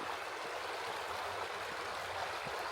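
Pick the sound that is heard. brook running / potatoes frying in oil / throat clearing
brook running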